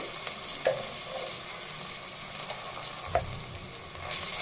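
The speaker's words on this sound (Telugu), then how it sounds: "అల్లం వెల్లి పేస్ట్ పచ్చివాసన పోయేంత వరకు వేగించాలి" Ginger-garlic paste frying in a pan gives a steady, soft sizzle, with a few faint clicks of a spoon stirring against the pan.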